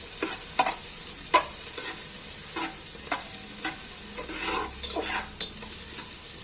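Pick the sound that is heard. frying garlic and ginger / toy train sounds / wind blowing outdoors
frying garlic and ginger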